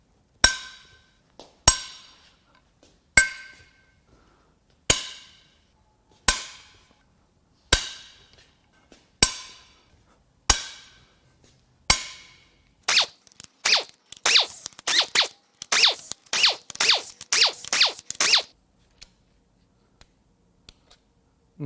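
M12 triple-square head bolts on a 2015 Volvo XC60 T5 2.0L engine cracked loose with a ratchet: a series of evenly spaced sharp snaps, followed by a flurry of rapid clicking, close and isolated.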